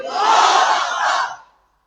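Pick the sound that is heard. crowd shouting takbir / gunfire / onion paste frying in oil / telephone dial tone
crowd shouting takbir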